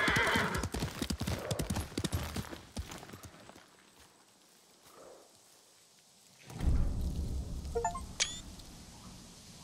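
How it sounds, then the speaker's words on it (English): A horse in the video game Ghost of Tsushima clip-clops at a walk in the opening seconds, and after a quiet stretch a louder whinny and snort come through near the end, with no talking. "You're a good horse, Nobu."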